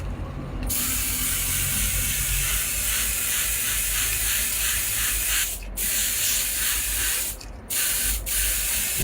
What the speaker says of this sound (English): Then the car body was spray painted with even strokes,